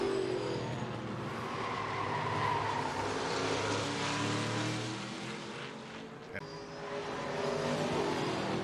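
Race cars on the ARCA Menards Series West road course at Portland International Raceway roar past with a steady, droning engine wash, distant and sustained, dipping briefly before building again.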